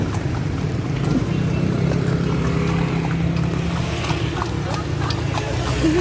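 Horse hooves clip-clop as a horse pulls an andong carriage through Malioboro, a steady rhythmic clatter under road noise with people talking nearby.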